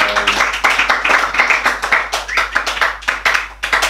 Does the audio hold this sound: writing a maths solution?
no